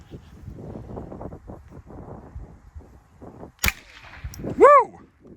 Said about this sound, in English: Again, that ricochet sound.